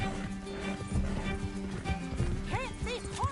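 Rhythmic hoofbeats of a galloping horse in a video game, with a whinny and other game sound effects near the end and a voice talking over it.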